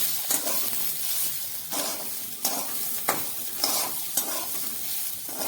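Desi potatoes fry and get turned in a pan, with a continuous sizzle broken by repeated scraping stirs and occasional knocks at an uneven rhythm, heard close with no voices.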